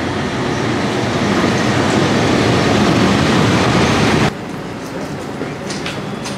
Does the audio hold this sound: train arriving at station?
yes